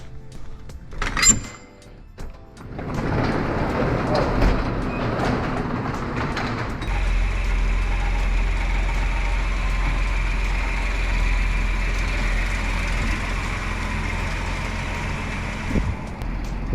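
A Ford Explorer ST fitted with lowering springs and new wheels starts up and pulls away, a door thunk and clatter giving way to a steady, close engine rumble with deep low-end drone that holds evenly throughout.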